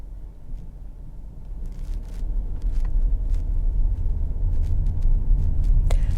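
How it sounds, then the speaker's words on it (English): A bright yellow Coral Island tram rolls along Blackpool seafront, a steady low rumble swelling gradually as it draws closer, with a brief high squeal near the end. "here's the bright yellow Coral Island tram"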